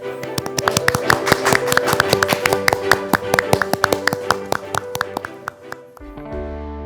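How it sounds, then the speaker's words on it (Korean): Studio audience clapping to welcome a guest on a Korean talk show, a lively run of sharp, close handclaps over light background music that stops after about six seconds. "박수로 모시겠습니다."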